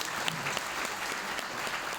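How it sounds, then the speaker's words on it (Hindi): An indoor audience at a direct-selling event gives steady, dense applause for about two seconds, moderately loud, with no voice over it. "सर प्लीज इनके लिए एक जोरदार ताली।"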